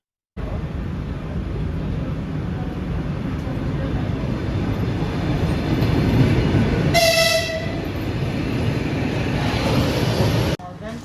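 Steady rumble of an electric commuter train rolling along the rails, with a brief horn-like tone sounding partway through.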